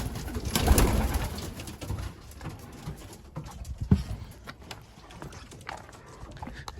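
Racing pigeons coo in a loft, soft low cooing and rustling with occasional wing flaps and bumps, a louder flutter near the start, then quieter shuffling and scattered movement.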